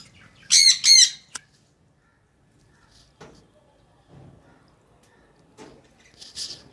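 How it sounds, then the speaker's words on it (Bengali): A yellow-sided conure parrot gives two loud, harsh squawks up close, followed by quieter scattered chirps and rustles, with another shrill call at the end and no talking. "এটা আমাদের ইয়েলো সাইড কনুর"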